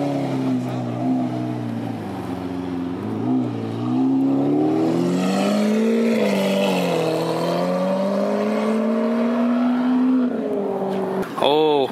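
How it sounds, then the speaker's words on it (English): Sports cars accelerate away at a busy car meet, with a loud, sustained engine roar rising and falling in pitch for several seconds and a final sharp rev near the end. "we have so many cars taking off"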